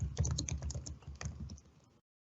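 Rapid clicking of a computer keyboard as a document title is typed into Microsoft Word, with quick uneven keystrokes for about two seconds, then silence.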